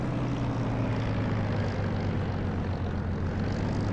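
A Spitfire Mk IX piston engine in DCS World idles steadily while taxiing, a continuous low propeller drone with a deep, even rumble that holds constant throughout, with no voices.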